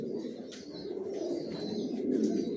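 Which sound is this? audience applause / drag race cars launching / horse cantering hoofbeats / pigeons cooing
pigeons cooing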